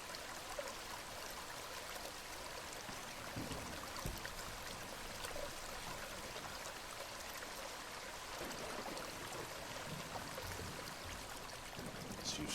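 Water drains steadily in a drainage simulation game along a forest road, a constant faint rushing stream with a soft trickle and no other sounds.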